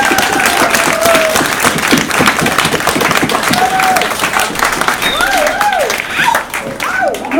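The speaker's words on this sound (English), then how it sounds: "please join me in a round of applause to thanks to all the volunteers that support this" People at a community lunch for women applaud the volunteers, sustained clapping filling the room while a few voices call out and chatter over it.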